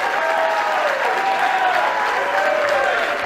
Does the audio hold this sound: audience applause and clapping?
yes